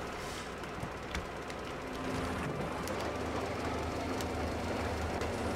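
A railway wagon rolls along tracks in the Metro Exodus video game, a steady rumbling clatter with faint rhythmic clicks and a low hum that swells slightly partway through, heard alone without voices.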